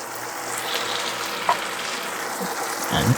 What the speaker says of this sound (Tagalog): pwede na nating ilagay ang tuna flakes to. Sinama ko na rin yung pinaka oil niya.